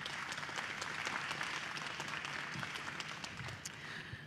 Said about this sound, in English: Please, I would like to invite you all to give a round of applause for our wonderful speakers.